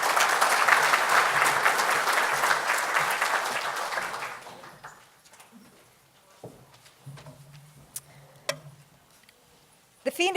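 An audience at a construction industry mental health conference applauding to welcome a speaker to the stage, loud sustained clapping for about four seconds that fades out, followed by quiet room sounds and a few footsteps.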